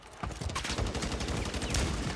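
Rapid bursts of gunfire in the video game Warzone 3, loud and close, firing in a dense, continuous stream of sharp shots with no talking.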